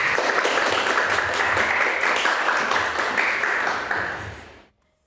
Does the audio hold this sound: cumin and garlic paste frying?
no